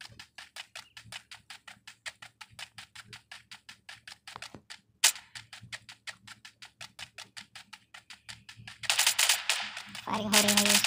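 Rapid bursts of automatic gunfire in the battle game Badlanders, a steady chattering stream of shots with a louder crack midway and a denser, noisier flurry of fire near the end.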